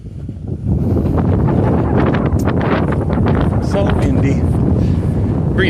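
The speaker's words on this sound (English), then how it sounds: "So windy." Strong wind buffets the microphone in a loud, continuous roar with gusty surges, and a person speaks briefly over it.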